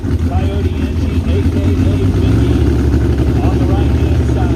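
Racing vehicle powered by an 85 Mercury Coyote engine, its loud, steady engine roar running continuously close by at a wooded racing event, with an announcer talking over it throughout.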